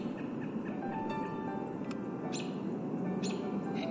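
Birds sing and chirp in the National Arboretum, with several short bright calls scattered over a steady outdoor background hiss, some close and some farther off.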